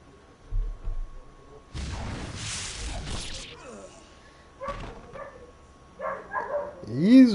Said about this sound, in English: since the neighbors got dogs, so you will hear them in the background